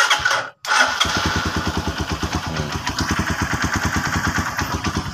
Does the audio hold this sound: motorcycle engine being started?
yes